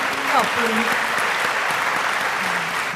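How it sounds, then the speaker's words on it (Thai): Audience applause on a Thai television game show, a dense, steady wash of clapping from a studio crowd that holds loud and even throughout, with faint voices underneath. "แต่วันนี้ต้องปรบมือให้แม่อีกครั้งครับ"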